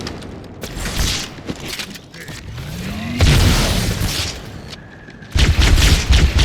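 Grenade blast in Halo 2 Anniversary combat, a loud booming burst followed by a rumbling roll and further heavy blasts, with scattered game noise in between.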